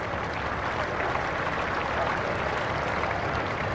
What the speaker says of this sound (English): Generous round of applause from this very knowledgeable Adelaide crowd.